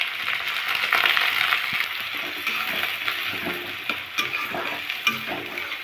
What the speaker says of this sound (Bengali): তো পেঁয়াজটা আমরা প্রথমে ভেজে নেব